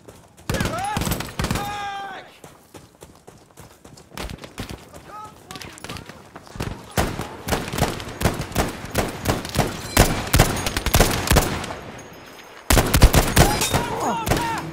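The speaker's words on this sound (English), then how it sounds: "Pink has actually started popping shots from over there." Dense gunfire from Battlefield 5 during a milsim operation on the Hamada map: rapid overlapping shots and bursts, mostly steady, building louder toward the end, with brief voice sounds mixed in.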